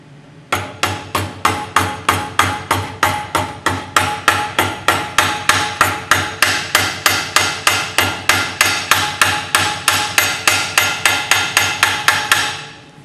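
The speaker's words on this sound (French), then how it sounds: "en frappant délicatement sur le collet battu" Hammer tapping a flared copper tube collar held on a flaring die in a vise, a long steady series of about forty sharp metallic taps at an even rhythm, close and loud, with no talk.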